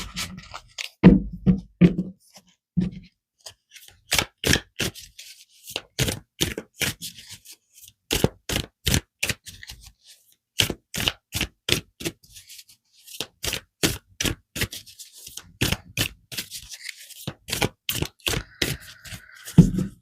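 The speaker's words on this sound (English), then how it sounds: "That's some bad shuffling right there." Tarot cards shuffled by hand, a long run of sharp, rapid riffling snaps and flicks in close bursts with short pauses between them, heard alone.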